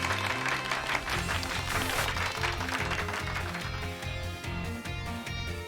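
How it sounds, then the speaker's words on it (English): Steady clapping applause runs throughout, layered over loud Pokémon Scarlet game music with a repeating bass line. "Give Pikachu a round of applause"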